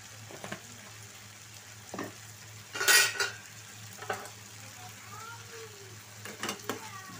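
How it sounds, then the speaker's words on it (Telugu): A spoon scrapes and clinks against a pan while pumpkin curry is stirred, with scattered short knocks at an even, moderate level and a faint sizzle underneath. "దాన్ని ఒకసారి మళ్ళా తిప్పుకొని"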